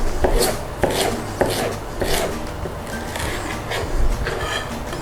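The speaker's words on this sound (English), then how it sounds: "So thinly slice the red pepper and the yellow pepper." Knife slicing red and yellow peppers thinly on a cutting board, a run of regular crisp chopping strokes, close and fairly loud, with faint kitchen background.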